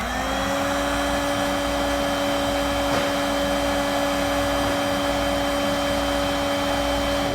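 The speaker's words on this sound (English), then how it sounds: "Take our heat source, shrink up our butt connector" A heat gun blows in a steady, loud whir while shrinking a butt connector during trailer wiring installation on a towing kit, with a constant hum running the full length and no talk over it.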